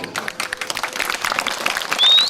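Audience at a Balinese comedy show claps in a loose, scattered burst of applause with crowd noise, and a brief high whistle-like tone rises near the end.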